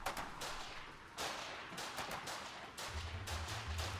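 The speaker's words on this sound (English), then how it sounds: "250 shoot. Keep shooting." Sustained gunfire in the war game Foxhole, a dense, continuous rattle of distant shots layered over one another with no clear pauses, fairly quiet overall.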